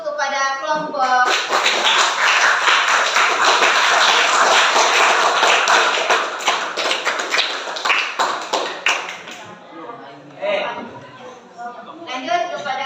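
Applause from a classroom audience for a group of presenters: dense clapping for about seven seconds, then thinning to scattered claps, with voices talking over it near the end.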